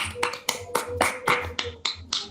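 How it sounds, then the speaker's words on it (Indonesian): Claps ring out in a classroom for a student group after its presentation, a sparse handful of sharp, evenly spaced hand slaps close to the listener, about eight in a little over two seconds. "Tepuk tangan untuk kelompok 1 yang sudah mempresentasikan."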